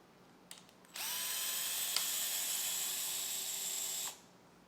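A DeWalt cordless power drill spinning up after a couple of faint clicks, whirring steadily at high speed for about three seconds, then stopping, close and fairly loud in an otherwise quiet space.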